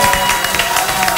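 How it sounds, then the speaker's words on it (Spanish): Brief burst of dense audience applause mixed with crowd noise at a live afternoon variety show, loud and continuous. "Aplausos de mucha gente."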